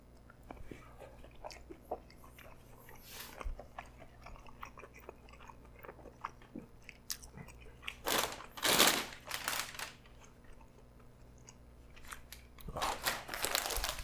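Crunchy bites and chewing of sweet and sour beef coated in sauce, close to the mic, with a few sharp louder bites standing out near the end.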